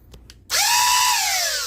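An NSK-X dart blaster fired in semi-auto: a couple of faint clicks, then a loud motor whine spins up sharply and holds a rising-then-falling electric hum, close and alone.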